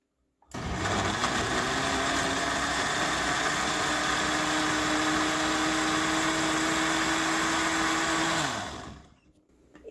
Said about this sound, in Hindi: एक बार मैंने ब्लेंडर चलाया है।